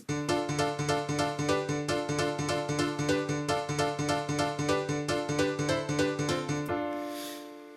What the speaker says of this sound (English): let you just listen to this piano without any of my processing